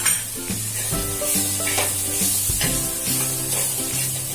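Green chilli thecha frying in a pan, a loud, steady sizzle and hiss with repeated scraping strokes of a spatula stirring throughout, close and without speech.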